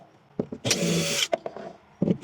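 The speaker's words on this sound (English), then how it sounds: "if you use a power wrench like this, I just recommend going real slow." Power wrench whirs in short bursts, driving screws slowly into a plastic Swing Case tool box in a 2017 Ford F150 truck bed. A longer whine is followed by brief pulses and scraping, close and alone.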